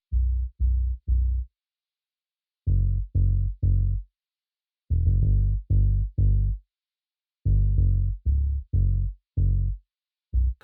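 Harmless sub bass preset heard alone, only the deep low end: rounded, muffled bass thumps in syncopated clusters with silent gaps, moderately loud and without any voice.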